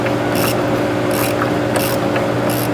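A ratchet wrench working on a Jeep Liberty steering rack, four evenly spaced bursts of close metallic clicking over a steady mechanical hum.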